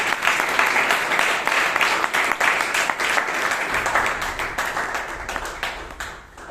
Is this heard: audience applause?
yes